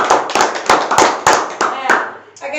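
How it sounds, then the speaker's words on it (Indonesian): A small audience claps in several short, uneven bursts at a school event in Yogyakarta, each burst fading quickly before the next, with a voice briefly heard at the end. "Tepuk tangan buat kalian"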